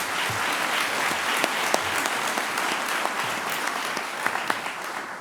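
A crowd claps enthusiastically, dense and sustained applause filling the whole stretch with scattered sharper claps standing out.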